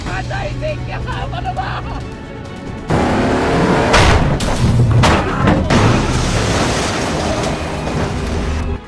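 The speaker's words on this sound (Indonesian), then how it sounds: "Hingga akhirnya mobil mereka pun bertabrakan" Cars collide in a film chase: a dense, loud crash of thuds and metallic impacts bursts in partway through and keeps rumbling, following a stretch of engine noise, with a voice talking over it.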